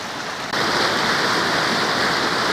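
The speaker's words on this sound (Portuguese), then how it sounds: "Trilha da cachoeira do Mufumbo." A waterfall on the Mufumbo forest trail in Ceará gives off a steady, full rushing roar of falling water that grows louder after a moment and stays constant, with no voices.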